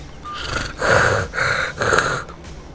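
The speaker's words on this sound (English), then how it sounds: "Why I hear you breathing?" A person breathing close to a microphone: three loud, raspy breaths in an uneven rhythm, heard alone without talk.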